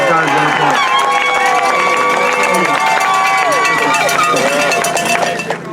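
Loud crowd cheering, whooping and clapping at a high school state football championship rally, dense and continuous, with shouting voices and music-like tones over it.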